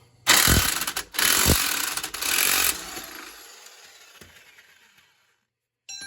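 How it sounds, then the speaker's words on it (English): An impact wrench hammers loose the bottom shock bolt on a C6 Corvette: loud, close rattling bursts in three pulses, then a fading mechanical whir as it spins down before silence. "you're going to use an impact"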